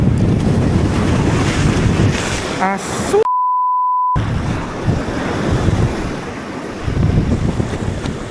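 Wind buffets the microphone as ocean waves rush and splash against a fishing boat at sea, with a brief spoken exclamation and a short bleep partway through.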